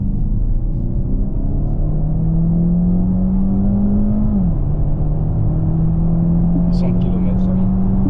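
Peugeot 408 GT with its 225 hp engine pulling hard under acceleration, a steady rising drone that dips briefly as a gear changes, then climbs again, heard from inside the cabin with a few faint clicks near the end.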